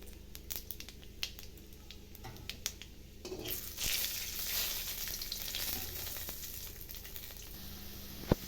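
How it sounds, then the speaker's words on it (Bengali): Cumin seeds sizzle in hot oil already tempered with bay leaf and dried red chilli, a steady close crackle that swells after a few seconds, with occasional pops and stirring clinks and no talking. "এবার একটু জিরে ফোড়ন দিয়ে দিলাম"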